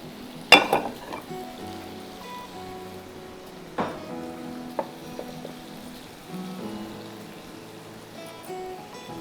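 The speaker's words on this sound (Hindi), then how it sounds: "अब मैं इसका तड़का बना रही हूँ" Hot oil, about a quarter cup, sizzles and crackles in a pan while making a tempering, with a sharp spatter burst near the start and quieter frying, clinks and stirring afterward.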